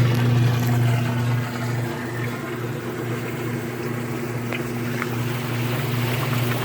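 A Costway mini washing machine (model EP21684) runs its spin cycle without agitating, giving a steady, loud mechanical hum with a low droning tone that holds throughout.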